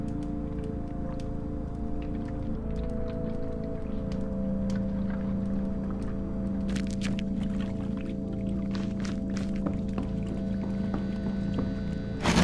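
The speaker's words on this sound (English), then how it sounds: "Shake the can, slosh of petrol at the bottom." Petrol sloshing at the bottom of a shaken can in the video game The Drifter, soft wet swishes and splashes over a steady low droning hum, with brief clicks near the end.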